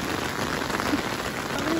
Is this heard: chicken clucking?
no